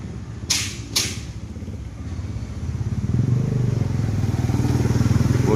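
An old, original 2005 Honda GL Max motorcycle engine idles close by with a steady, rapid, throbbing putter after a couple of sharp clacks, sounding rough and mechanical with no one talking over it.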